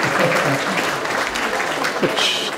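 Sustained applause from an audience at a Slovenian gathering fills the whole stretch, steady and fairly loud, with voices mixed in underneath.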